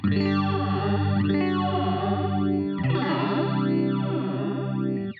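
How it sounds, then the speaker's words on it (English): Sustained distorted guitar chords through the flanger of a Donner Alchemy pedal, a sweeping, whooshing jet-like effect rising and falling in slow cycles, loud and continuous. "Let's go to the flanger here."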